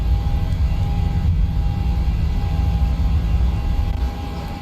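Jet engines of a PMDG 737 in Microsoft Flight Simulator 2020 roaring steadily through the takeoff run, a loud, constant low rumble with a faint whine above, easing off slightly near the end.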